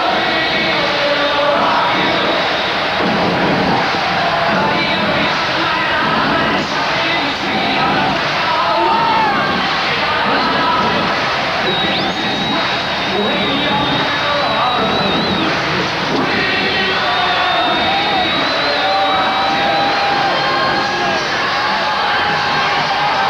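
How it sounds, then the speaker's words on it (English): A large home crowd for the Tacoma Stars fills an arena at a 1987 indoor soccer championship game, a dense, sustained roar with whistles and shouts, loud and constant throughout. "Let's pick up a little bit of this Tacoma crowd."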